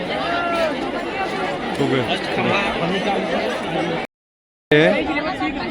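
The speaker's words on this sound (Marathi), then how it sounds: "संगमच्या तिथे आरेल घाटावरती पोहोचलेलो आहे ही गर्दी बघू शकता" A large crowd of pilgrims at Arail ghat by the Sangam during the Kumbh Mela in Prayagraj fills the air with steady chatter and babble. Nearby voices stand out over the din, and a brief silent gap cuts in before the noise returns.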